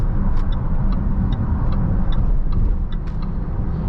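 A 2016 Range Rover Sport HSE accelerates up to highway speed, a continuous loud engine and road rumble filling the cabin with faint rhythmic ticking above it, no talking.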